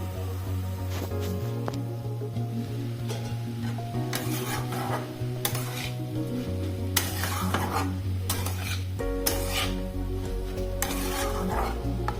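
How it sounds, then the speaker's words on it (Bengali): Mixed vegetables with prawns are stirred in a pan over a soft sizzle, with scraping and intermittent metallic knocks of the utensil against the pan, no one speaking. "এবারে ভালো করে নাড়িয়ে চাড়িয়ে একটা ঢাকনা দিয়ে দেবো"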